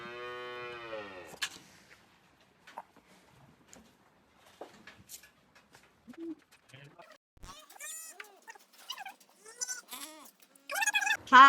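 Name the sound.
cows in a cowshed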